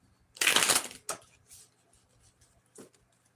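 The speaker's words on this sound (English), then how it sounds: "Let's do 2 more shuffles," A deck of tarot cards gets shuffled, one loud riffling burst followed by a couple of shorter softer riffles and a final brief flick, close-up in a quiet room.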